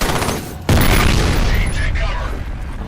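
A sniper rifle fires in a video game with one loud, close blast and a long rolling echo afterward, plus faint mechanical noises as the tail fades.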